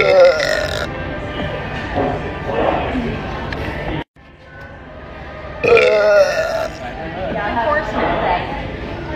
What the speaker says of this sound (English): I burped before I fart.